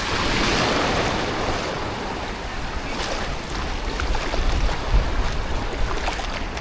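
Surf washing onto White Sand Beach at Khao Lak, Thailand, a steady broad wash of waves close by with wind buffeting the microphone, continuous throughout with no one talking.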